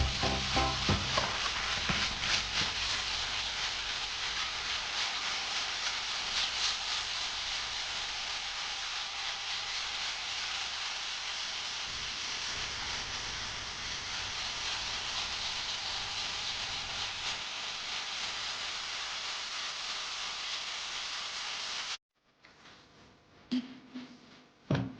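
Steady, scratchy rasp of 400 grit sandpaper worked across the surface of a Quarter Chippy fuselage, continuous and fairly close for about twenty seconds before stopping, followed by a few faint, brief handling noises.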